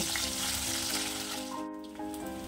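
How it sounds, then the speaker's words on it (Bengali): Tangra fish frying in hot oil in a pan, a continuous close sizzle with a few soft knocks, no speech. "এরকম করে প্রায় 5 থেকে 7 মিনিট ধরে ট্যাংরা মাছগুলোকে ভেজে নেব।"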